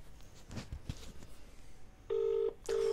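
Touch-tone telephone keys pressed to dial a prank call, producing two short, steady beeping tones close up after a stretch of faint background noise.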